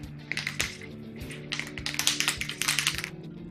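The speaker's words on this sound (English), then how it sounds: "I will spray the block." Aerosol spray adhesive is applied to an Opel CIH short block resting on cardboard, heard as several close hissing bursts of spray with faint clicks from the can's nozzle.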